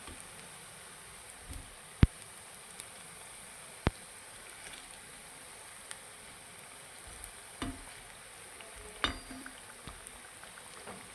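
Medu vada frying in hot oil gives a steady, quiet sizzle, broken by occasional sharp clicks and taps of a utensil turning them, with no voices.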